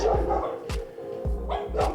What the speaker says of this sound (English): I'm getting yelled at by the dogs here